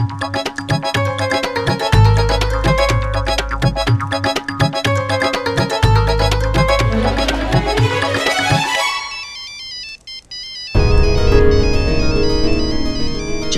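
A melodic phone ringtone plays loudly with a repeating tune and rhythmic beat, briefly dropping out before resuming.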